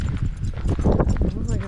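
Horse hooves clip-clop in an uneven patter on a hard surface, close by, as horseback riders pass in a state park, while people talk over the sound.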